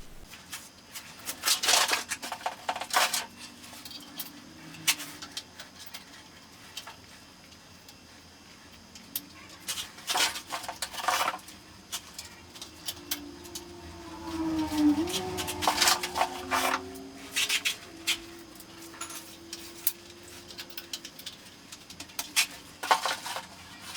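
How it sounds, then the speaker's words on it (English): Ceramic bathroom floor tiles are dry-laid by hand, giving scattered hard clacks and scraping knocks of tile on tile and floor, near and irregular, with quiet gaps between. "I'm just going to lay some tile and see how it looks"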